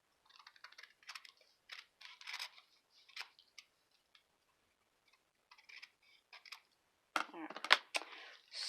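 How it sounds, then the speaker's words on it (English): Scissors snip through a wax paper bag in short, quiet crisp cuts, separated by gaps, then a louder papery rustle near the end as the bag is handled; no one speaks. "I'm going to cut this a little bit more"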